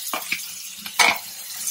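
Ginger frying in oil in a nonstick pan after garlic paste, with a few soft sizzling bursts and stirring scrapes, the loudest burst near the end against a low steady background.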